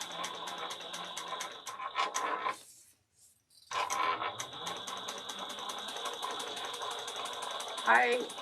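Sewing machine stitching a travel bag, running in a steady rapid mechanical chatter that halts for about a second before resuming, with a voice speaking over it.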